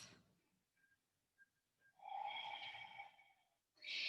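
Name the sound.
breathing during yoga practice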